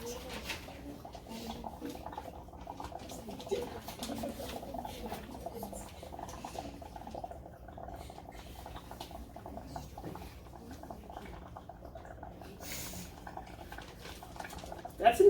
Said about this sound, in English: Using a straw, slowly exhale into the water.